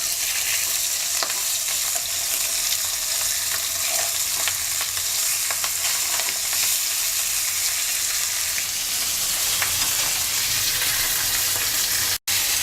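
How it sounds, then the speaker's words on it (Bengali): Rohu fish fries in hot oil in a pan with a loud, dense, continuous sizzle and crackle close by. Small pops are scattered throughout, and it cuts off sharply at the very end. "মাছটা ভাজা হয়ে গেছে"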